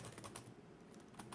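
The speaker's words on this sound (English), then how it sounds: "And I am actually typing this into the group now." Someone types on a computer keyboard in a steady flurry of soft clicking keystrokes, close and faint over a low background hum, with no talking.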